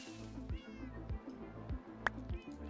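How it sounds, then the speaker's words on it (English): Several cats meow repeatedly in the background, their clear, drawn-out calls rising over a steady low hum with no talking. "I hear cats meowing in the background."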